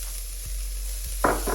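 Garlic sizzling over medium heat in a pan for vegan black pepper tofu, a steady close hiss that swells into a louder sizzle as ginger is added, with no voices.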